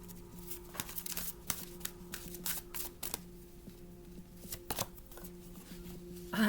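Tarot cards are shuffled to draw one: quick, crisp riffles and soft flicks tick along steadily at close range and low volume, ending in a brief louder handling sound.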